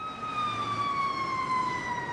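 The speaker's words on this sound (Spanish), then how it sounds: "Estamos oyendo, sí, las sirenas indicando que se aproxima hacia acá una motobomba." Fire engine sirens wail steadily as the truck approaches a scene at the foot of the Uriburu bridge in Valentín Alsina, with a fairly distant, sustained, slowly falling tone over background noise.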